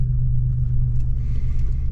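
A 1986 Buick Regal T-Type rolls gently through a neighborhood, its engine a steady, loud low rumble heard from inside the car, with no revving and no talk.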